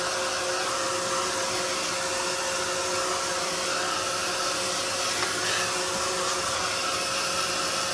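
A hair dryer runs steadily on journal pages, a continuous close, loud blowing whir holding unbroken for the whole stretch with no talking.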